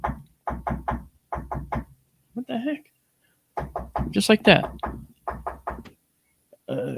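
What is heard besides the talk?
knocking demonstrating three sets of three knocks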